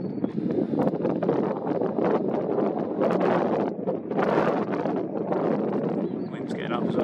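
Outdoor wind buffets the microphone in a continuous loud, rough rumble that swells and dips in gusts throughout.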